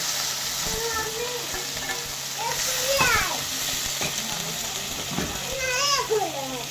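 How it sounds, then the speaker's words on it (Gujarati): Chopped papaya sambharo vegetables dropped into a pan with hot oil and mustard seeds, frying with a loud continuous sizzle and crackle while faint children's voices chirp in the background. "અને પછી આપણો સમારેલો સંભારો નાખી દેવાનો।"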